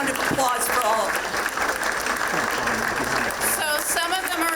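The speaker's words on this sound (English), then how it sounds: "A big round of applause for all of them." A luncheon crowd claps steadily and loudly in a continuous wash, with voices rising briefly over the applause near the end.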